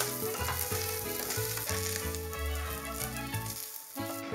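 Small pieces of lightly seasoned filet mignon fry in a pan for tacos, giving a dense, continuous sizzle heard under rhythmic background music.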